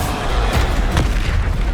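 A Bombarda spell explosion in the Hogwarts Legacy video game, a loud, dense, booming blast that fills the short moment with a low rumbling burst and a couple of sharper cracks.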